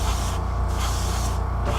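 Aluminum spray paint hisses steadily from a can onto a Zvezda 1/2700 Star Destroyer model, a close continuous airy spray with two short pauses in the pressure.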